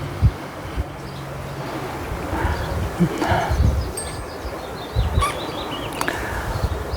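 Wind gusting outdoors in a garden of tomatoes, cucumbers in pots and herbs, a steady rushing buffet on the microphone with rustling leaves and occasional faint bird calls.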